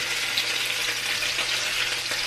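Garlic frying in a pan hisses with a steady, close, loud sizzle that stays even throughout, with no voices over it.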